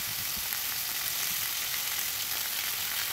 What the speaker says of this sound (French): Je viens placer les brochettes sur la poêle comme ça.